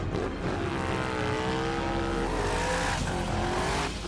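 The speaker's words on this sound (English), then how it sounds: "They also wanted to see some skids." Car doing burnout skids on a suburban street, a loud revving engine with rising and falling pitch and squealing tyres, close and continuous.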